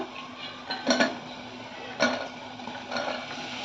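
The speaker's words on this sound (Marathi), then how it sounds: "आता यामध्ये मी घालणार आहे ही चवळी आणि बटाटा" Black-eyed peas and potato tipped into oil with ground masala in a pan for Malwani chawli usal, giving a few soft metallic clinks and scrapes of a spoon over a faint sizzle.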